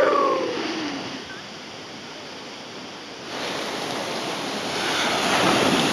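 Large ocean waves break and surge onto a beach in Phuket, Thailand, making a loud, continuous roaring wash. The surf swells louder near the end and carries wind noise, with no voices.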